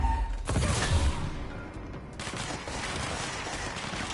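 A gunshot headshot in the video game Control, a sharp loud blast followed by a noisy rumbling tail and continued game ambience.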